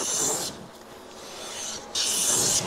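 A hand plane takes a light pass along a wood board: two close raspy shaving strokes with a quieter scraping interval between them, and no talk.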